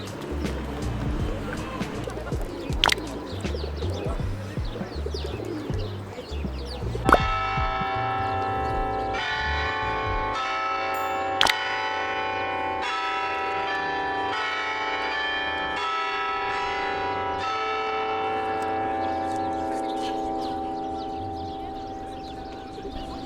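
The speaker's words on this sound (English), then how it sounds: "What's the bell for?" Church bells at a large Serbian Orthodox church begin ringing partway through, a loud run of steady, resonant strikes that carry on after a short stretch of voices and street noise.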